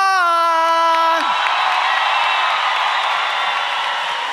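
A studio audience cheers and claps at a televised sports-themed show. The noise swells into a loud, sustained crowd roar with whoops that continues to the end, and a held musical tone cuts off just before it.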